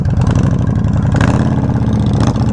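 A Yamaha Warrior 1700 motorcycle idles loudly up close, its deep, lumpy exhaust thumping in a steady uneven rhythm with a slight rise in revs partway through.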